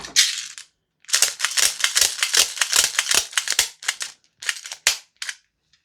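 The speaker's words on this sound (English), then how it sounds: "whack some rounds in a fresh mag" Airsoft BBs are pushed one by one into a fresh magazine for a Northeast Mini UZI gas blowback rifle, giving a close, rapid series of sharp plastic clicks in quick bursts with short pauses and no talking.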